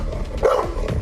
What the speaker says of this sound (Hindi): Number 3 pitbull. इसकी आवाज आपकी धड़कनें तेज कर सकती है।